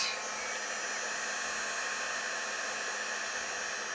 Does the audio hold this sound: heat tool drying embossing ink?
yes